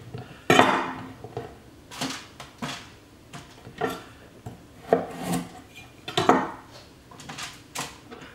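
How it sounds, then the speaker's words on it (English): A knife slices lengthwise through thick carrots on a cutting board, several separate crunchy cuts each ending in a thud on the board, close and fairly quiet. "if you have some carrots that are a little thicker, then you can cut them in half lengthwise"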